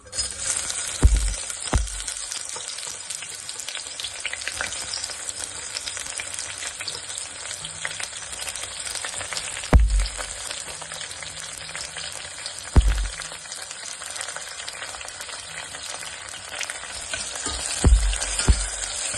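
Onions frying in a pan with cumin and mustard seeds, a loud continuous sizzle broken by several sharp knocks and pops from the pan.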